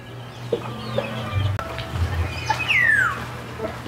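Chickens cluck and squawk close by in a loose, irregular series, one rising call standing out near the end, over faint background noise.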